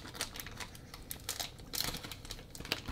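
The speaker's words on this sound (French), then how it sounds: "c'est tellement facile de les ouvrir les boosters" A Pokémon booster pack's foil wrapper is torn open by hand, giving close, crisp crinkling and tearing bursts that come in quick irregular clusters through the clip, with a sharper rip near the end.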